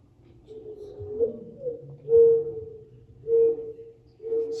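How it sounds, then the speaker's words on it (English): A mourning dove repeats its low, hollow cooing in a garden setting, several soft drawn-out notes spaced about a second apart, fairly clear against a quiet background. "That's the morning dove call."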